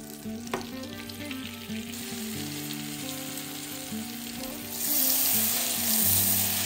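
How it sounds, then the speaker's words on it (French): Butter sizzles and foams in a pan as it turns to brown butter for pecan financiers, a continuous close frying hiss that grows louder and brighter toward the end, with a little stirring and no voices. "Vous voyez, faire un beurre noisette, c'est très facile. Il est presque prêt."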